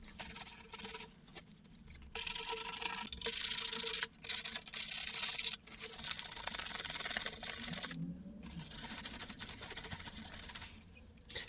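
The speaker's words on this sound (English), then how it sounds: "I'm just sanding this down, get it as smooth as I can" Hand sanding of a part from a barn-find Suzuki GSX-R motorcycle being prepared for paint: steady scratchy rubbing strokes in long passes with short pauses between, close and alone.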